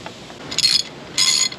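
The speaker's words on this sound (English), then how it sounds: "We're gonna pop the new filter back in there, just drop it in and thread it on." A new oil filter being threaded onto a car engine during an oil change: two short, close bursts of bright metallic scraping and ratcheting, with a quiet pause between them.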